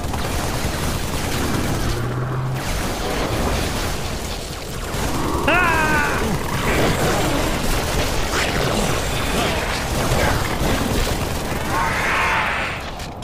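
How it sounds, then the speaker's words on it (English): Gunfire in the video game Halo 3, sustained bursts of rapid shooting and booming weapon blasts amid constant battle noise, loud and dense throughout. "Gunfire. And that's not one of ours."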